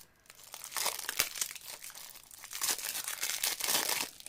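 Cardboard oracle card boxes being torn open and crinkled, a quiet run of ripping and crunching bursts in irregular rhythm, close by with no voices.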